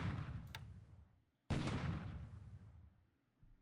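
Battleship shells hit targets in a naval war game set around Colombo: two heavy, booming impacts, the second sudden and loud, each fading into a long, rumbling decay.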